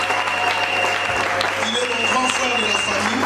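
Sustained applause fills a church gathering, dense steady clapping from a large crowd that holds at an even level throughout, with a voice and faint tonal sound carrying underneath.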